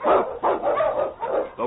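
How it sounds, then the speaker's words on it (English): A husky sled dog, an Eskimo lead dog in an old radio drama, barks in repeated loud bursts with short gaps between them, close up and without other sounds. "The Wonder Dog King, swiftest and strongest of Eskimo lead dogs"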